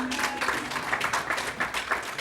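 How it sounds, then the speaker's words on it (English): Audience applause at a poetry awards ceremony, steady dense clapping from a crowd, moderately loud and continuous throughout. "let's give him a round of applause anyway"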